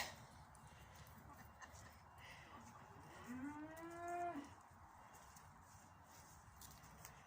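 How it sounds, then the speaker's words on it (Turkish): A single cow moos once, a drawn-out low call in the middle of the clip, set against steady outdoor background noise. "İşte Türkan ineklerine"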